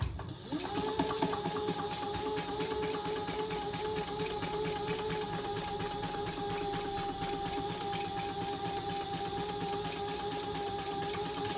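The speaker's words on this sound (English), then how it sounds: "we're gonna do a row of top stitching right along there" A sewing machine top-stitches a cork wallet, running in a fast, even, steady rhythm close by after a brief start, continuing unbroken to the end.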